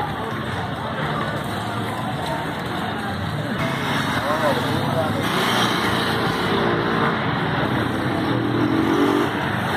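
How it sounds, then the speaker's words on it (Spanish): City traffic in Siloé, Cali, Colombia, with motorcycles and cars running a continuous, close engine drone and some rising revs, while people talk over it. "motos por todos los lados, niños manejando motos también"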